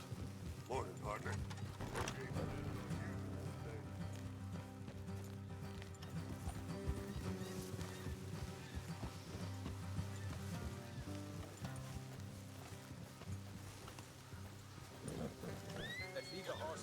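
Horses in Red Dead Redemption 2 whinny and clop along amid ambient game sound and music, with voices talking over the scene.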